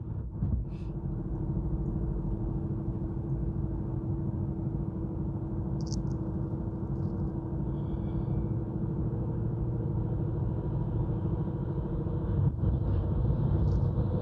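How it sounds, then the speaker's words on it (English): Low, steady rumble of a truck engine passing nearby, holding level throughout with a few faint higher chirps on top. "that's a nice truck"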